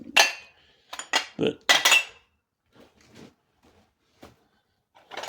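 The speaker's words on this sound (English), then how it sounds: "I've got some dishes." Dishes and cutlery clink and clatter in bursts while being packed up during a house clean-out, sharp close knocks then quieter scattered taps, with a brief spoken word.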